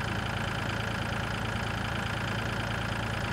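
A tractor engine idles in the Farming Simulator 2013 video game, giving a steady, dense low rumble with an even mechanical throb and no change in pace, loud and continuous with no voices.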